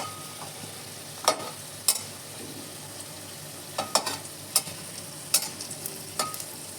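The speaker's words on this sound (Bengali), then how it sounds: "অল্প কালো জিরে ছেড়ে দিলাম এইভাবে আপনারা ফোড়ন দিতে পারেন" Nigella seeds tempering in hot oil for a pumpkin dish, a quiet continuous sizzle punctuated by a handful of sharp clicks and pops from the pan, near and fairly soft, without speech.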